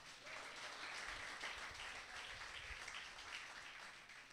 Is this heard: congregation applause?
yes